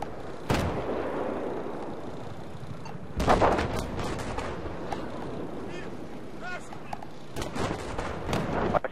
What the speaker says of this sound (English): that damn tank shooting that tower down on me